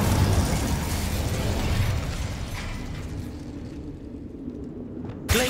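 Incendio fire spell cast in Hogwarts Legacy, a loud whooshing burst of flame that rumbles and slowly fades over several seconds, ending with a sharp crackling pop.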